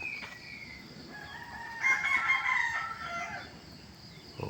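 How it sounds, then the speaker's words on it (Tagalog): A rooster crows once at middle distance, a drawn-out cock-a-doodle-doo over quiet background, with a faint short call near the start. "Mas maganda pakinggan yung tilaok ng manok"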